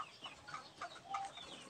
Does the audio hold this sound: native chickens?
yes